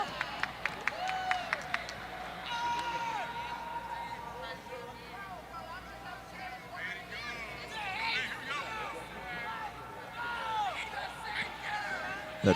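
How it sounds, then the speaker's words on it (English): Baseball crowd at a Dream versus FL Dodgers Pro-Series game cheering and clapping, a busy babble of voices and applause with a few sharp claps early, moderately loud and continuous. "The crowd fired up for the Dream"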